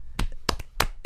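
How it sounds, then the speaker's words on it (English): A few people clap in a studio to greet a guest, four sharp, separate claps spaced irregularly, close and fairly quiet, with no talk over them. "Every time I introduce, I expect kind of like everybody who's in the room to clap, but we usually don't get that."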